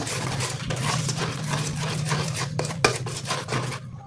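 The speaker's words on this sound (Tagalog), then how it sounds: "mix lang natin siya ng ayos" Low carb pancake batter made from a Greendahan pancake mix being stirred in a bowl, steady rhythmic scraping and swishing of a utensil against the container, close and moderately loud, with a few sharper clinks near the end.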